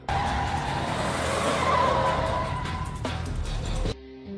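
A car speeds away during a film chase, a loud sustained engine roar with skidding tyre squeal running for about four seconds before cutting off abruptly.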